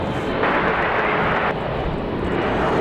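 A CRJ regional jet departs Raleigh-Durham airport, its engine roar a loud, continuous broadband rumble with no talk over it.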